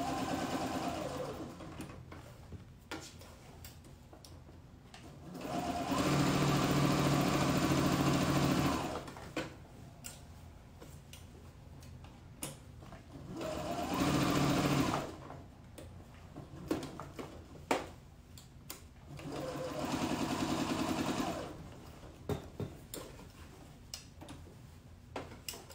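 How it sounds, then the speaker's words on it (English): A sewing machine runs straight stitches on a seam with a backstitch at each end, whirring steadily in three bursts of a few seconds each, separated by quieter pauses with small clicks and fabric handling. "I'm just sewing a straight stitch at 1/2 inch seam allowance. Starting and ending with a back stitch."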